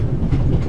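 A moving train in The Raven rumbles with a low, steady rolling roar, loud and close, over a very short moment.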